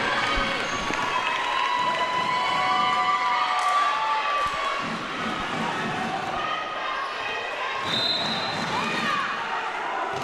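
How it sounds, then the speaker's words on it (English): Crowd noise fills a high school gym during a girls volleyball match, a steady roar of cheering with squeaking shoes and ball thumps, while a commentator talks over it. "Crowd alive and well."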